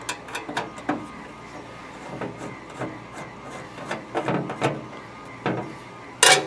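A long screwdriver works a screw beside a regulator valve, making a run of close, sharp ratcheting clicks and scrapes in irregular bursts. A louder clack comes near the end.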